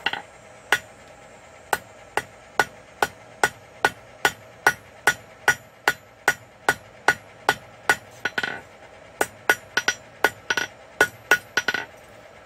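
Hammer blows ring out on hot steel at an anvil while a hairpin is forged, about two dozen sharp metallic strikes in a steady, evenly spaced rhythm, close and loud, with a brief pause and a quick double hit partway through.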